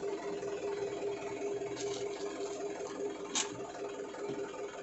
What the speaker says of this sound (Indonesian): Nah, mesinnya sudah menyala. Oke, tandanya dia RPM-nya naik.